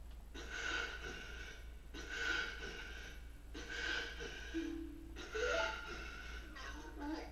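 Ganon's raspy, gasping coughs from the original 1.0 release of Zelda: Ocarina of Time on the N64, four or five drawn-out hoarse heaves in a steady rhythm over a low droning game backdrop.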